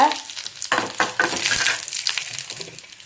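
Dried red chillies dropped into hot oil with popped mustard seeds sizzle and crackle steadily, with a few sharper bursts and stirring scrapes in a close kitchen pan.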